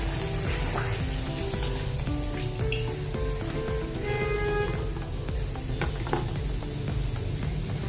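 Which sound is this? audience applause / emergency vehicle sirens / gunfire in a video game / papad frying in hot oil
papad frying in hot oil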